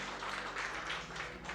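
An audience claps steadily throughout a short stretch to welcome the priest Father Gundiga Prakash at a church service. It is a dense, even wash of hands with no voices over it.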